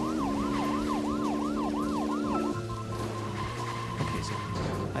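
Police siren from the video game Deadly Premonition wailing loudly in a steady repeating rise-and-fall cycle, then cutting to a lower sustained horn-like tone with engine rumble underneath.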